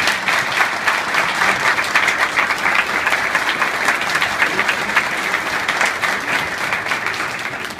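An audience at a Brooklyn Orthodox community event applauds police officers, producing a full, even roar of clapping that runs loud and unbroken throughout.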